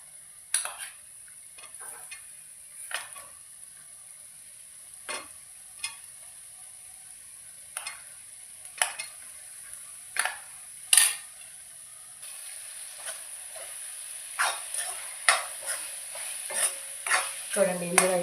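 Prawn curry being stirred in a pan, with a steady sizzle under repeated sharp scrapes and clinks of the spoon against the pan, close and moderately loud, growing busier toward the end.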